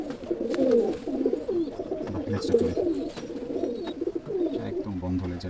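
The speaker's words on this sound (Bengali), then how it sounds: "একদম বন্ধ লেজের পায়রা" Pigeons in a loft coo continuously in low, rolling, overlapping calls, close and fairly loud, with a voice speaking among them.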